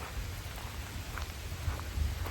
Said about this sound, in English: it's been raining for a good bit now.